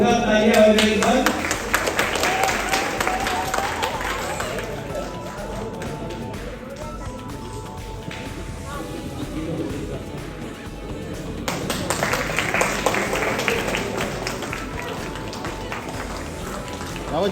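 Applause from an audience at a fifth anniversary function of a cultural and historical research institute, dense clapping swelling and fading across the room with voices mixed in.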